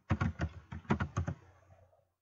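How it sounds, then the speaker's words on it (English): Computer keyboard keys tapped in a quick burst of about seven close, clear strokes, then a soft fading tail; no talking. "Now I want to type in Uranus Soul"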